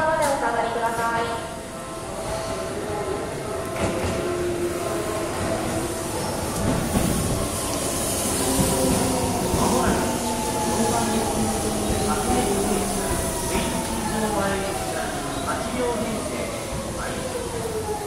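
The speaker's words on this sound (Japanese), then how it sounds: "このホーム電車到着しております。" A train rolls into Kotesashi terminus station in Japan with rumbling wheels, clattering, and rising and falling metallic squeals, while people talk and a platform announcement plays over it.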